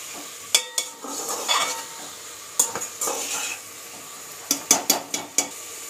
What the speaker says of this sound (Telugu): ఇప్పుడు చారు పోసుకుంటున్నానండి కలుపుకుంటున్నాను